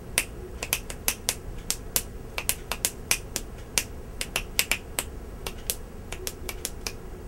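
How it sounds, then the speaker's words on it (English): Crisp finger snaps click repeatedly in an irregular, rapid rhythm, sharp and fairly close, over a quiet background hum with no talking. "like the snapping right there"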